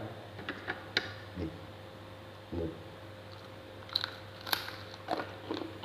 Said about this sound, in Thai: กรอบครับ